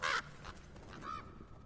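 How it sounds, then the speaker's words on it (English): Crows caw in The Last of Us: Left Behind, one harsh caw up front followed by a fainter second call, both set against quiet in-game ambience. "Oh, damn crows."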